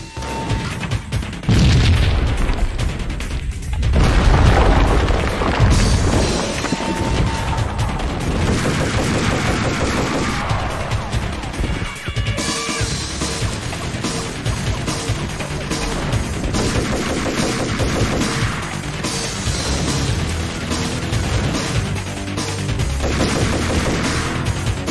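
Gunfire in Max Payne, dense and loud, with rapid automatic bursts, single shots and heavy booms overlapping almost nonstop, with no talking.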